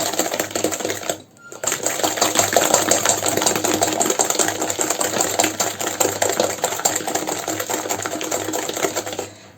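Electric mixer whirring steadily through madeleine batter, a close, continuous motorized buzz that stops briefly after a second and then runs on without a break.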